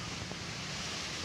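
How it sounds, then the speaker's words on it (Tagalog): Strong typhoon wind blows outdoors as a steady, dense rushing roar with no break, loud and close to the microphone throughout. "Ang lakas ng hangin."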